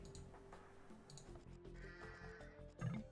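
Sheep bleating in a real-time strategy video game match as a scout steals an opponent's sheep: faint, short bleats over a quiet hum of game ambience, with a slightly louder bleat at the end.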